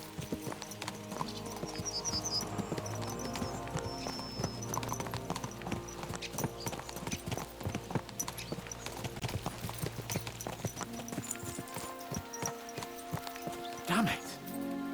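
Horses galloping hard in the medieval Bohemian world of Kingdom Come: Deliverance II, rapid hoof clops drumming steadily under a dense bed of orchestral music and game ambience, with a brief snort or whinny near the end.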